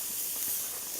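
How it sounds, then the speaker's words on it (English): A rib eye steak sizzles in a Camp Chef oven at a campfire, a faint steady hiss lasting about a second with no voices. "Ribeye number one going on right now. Listen to the sizzle."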